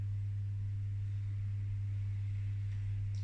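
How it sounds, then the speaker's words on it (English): A home boiler whirs steadily in the background, a constant low hum with faint broadband hiss, continuous and even throughout with no talk. "My boiler's whirring away in the background"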